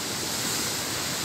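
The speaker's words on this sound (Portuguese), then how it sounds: "onde vocês estão vendo a água estourando ali nas pedras" Storm-swell surf at Garopaba pounds on rocks under a south wind after a cyclone, a loud, continuous roar of breaking water with no talking.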